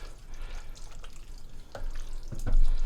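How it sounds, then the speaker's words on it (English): Chili stirred in a slow cooker, with soft wet scraping and thick bubbly churning close up, growing slightly louder toward the end. "I'm going to give everything a stir."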